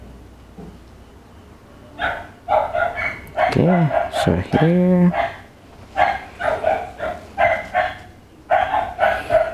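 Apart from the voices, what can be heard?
dog barking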